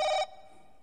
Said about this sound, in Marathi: Oh no, my mobile is ringing.